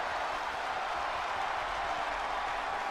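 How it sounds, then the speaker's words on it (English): An arena crowd in a wrestling video game cheers in a steady, dense roar of voices and applause, continuous and even in loudness with no break. "The crowd are excited for this one. They're cheering loudly and proudly."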